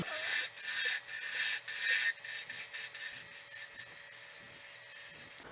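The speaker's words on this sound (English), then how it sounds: "I'm doing that planing cut again, only I'm just making a cylinder now." Wood being turned on a lathe as a planing cut shapes a cylinder, a broadband rasping scrape that comes in uneven strokes and bursts, close and fairly quiet, with a faint steady hum beneath and no talk.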